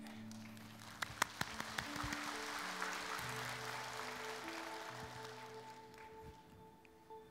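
Church congregation applauding during a service, steady clapping from a gathered crowd with sustained organ or keyboard chords underneath, moderately distant.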